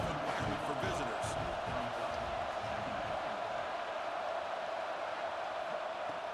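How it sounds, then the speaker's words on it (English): A college football video game stadium crowd roars in a dense, steady wash of cheering and noise throughout, loudest at the start. "Listen to the crowd energy here in the early going."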